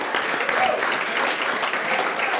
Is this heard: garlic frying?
no